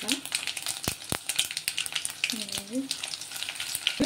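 Garlic and dried red chillies fry in hot oil with a busy, crackling sizzle, sharp pops and spatters scattered across it, close up, with a faint background voice or tone in the middle.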